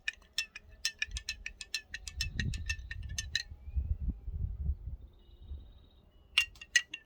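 A spoon stirs Javy coffee concentrate in a glass, giving a quick run of light, bright clinks for a few seconds, then a pause before a couple more near, crisp taps. Low handling rumble sits underneath.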